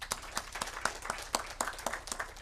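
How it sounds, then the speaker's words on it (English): A small group claps in scattered, irregular beats for an organizing team at a KIPPRA university mentorship event, the individual hand claps sharp and distinct rather than blending into a roar. "Can we give them a clap?"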